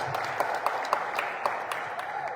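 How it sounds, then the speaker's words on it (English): A crowd at a business presentation claps steadily for a couple of seconds, a moderate scattering of hands rather than a roar, heard from a short distance. "which I think deserves a round of applause"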